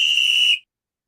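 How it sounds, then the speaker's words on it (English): A single sustained whistle blast, shrill and loud, lasts about half a second and cuts off cleanly into silence; a sound effect picked in a game editor, heard alone. "And then we can just go here and I can pick my whistle."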